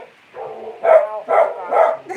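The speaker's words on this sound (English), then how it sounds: "Here's the dogs again" Dogs bark in three quick close bursts, moderately loud, with a softer whine or yip leading in, no talking.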